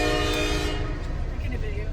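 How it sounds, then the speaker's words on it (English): CSX freight locomotive horn blast at a grade crossing on Chili Avenue in Chili Center, New York, loud and sustained for the first part then fading under rumbling rail noise, with people talking nearby. "He blew the horn extra."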